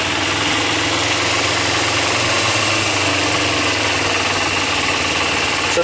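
A cold motorcycle engine idles right after starting, a loud, close, steady rumble with a fast even chug that holds unchanged throughout.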